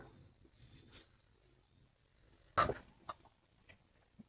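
Sonali chickens on a farm give a few faint, scattered clucks over a quiet background.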